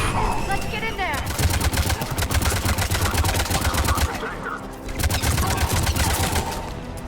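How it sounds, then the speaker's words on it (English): A firefight in Mass Effect 3 rattles with loud rapid automatic gunfire in two long sustained bursts, separated by a brief lull in the middle. "Taking enemy fire."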